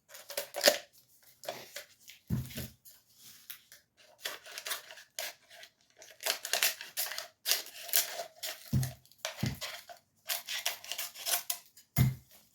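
Scissors trim sublimation wrap around a mug in a run of quick, crisp snips, close and clear, in short bursts with brief pauses and soft handling thumps.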